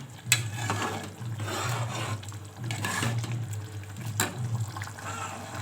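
Rice boils in water in a pot for pulao, a steady bubbling and gurgling with low rumbling and occasional sharper pops and clicks, heard up close with no talking.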